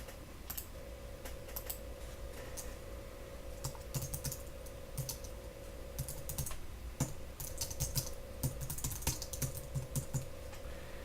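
Someone types a comment on a computer keyboard, giving bursts of close, crisp key clicks in an uneven rhythm over a faint steady hum, with no talk.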